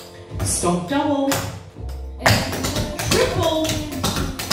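Clogging dance steps on a floor set to a song: loud, crisp taps and heavy stomps in quick rhythmic clusters, played close over music, with a caller's voice giving the steps.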